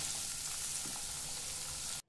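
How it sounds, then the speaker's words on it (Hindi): Paneer cubes and onion fry in a pan, a soft, steady sizzling hiss lasting about two seconds before stopping abruptly, with no voices. "उनको भी फ्राई करेंगे हल्का सा, इसके साथ ही ऑनियन के साथ ही फ्राई करेंगे इसको।"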